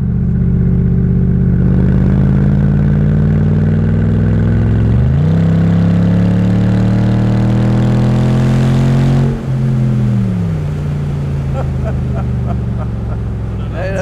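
A 2008 Mercedes SLR McLaren Roadster engine roars loud and close while driving, climbing in pitch through the gears with a sharp shift and drop, then building again, under faint talk.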